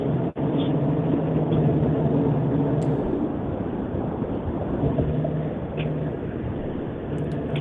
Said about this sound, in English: It sounds like you're in a car.